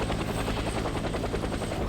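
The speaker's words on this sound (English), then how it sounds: "Oh, chopper." A helicopter in the video game Death Stranding, a loud, steady rotor drone with rapid rhythmic thumping that fills the whole moment with no talk over it.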